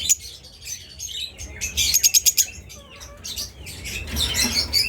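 Several Fischer's lovebirds chirp and squawk in quick, high bursts, with a tight run of sharp repeated calls partway through, close by and fairly loud.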